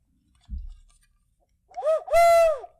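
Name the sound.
toy whistle imitating owl hoot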